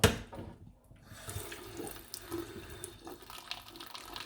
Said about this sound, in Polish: zimną wodę, sprawdzając ręką temperaturę